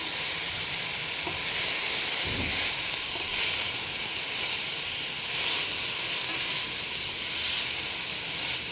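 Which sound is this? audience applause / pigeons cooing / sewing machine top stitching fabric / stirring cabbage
stirring cabbage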